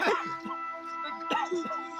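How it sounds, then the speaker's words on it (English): A German Shepherd and a Labrador scuffle with short yips, whines and snarling barks in quick bursts, close by, mixed with a person's voice. "Dog fight."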